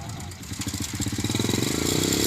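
A petrol motorcycle engine used to drive a tubewell is started and tested, running loud and close with a rough pulsing beat that quickens and steadies as it revs.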